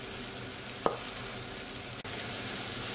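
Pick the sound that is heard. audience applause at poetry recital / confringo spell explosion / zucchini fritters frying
zucchini fritters frying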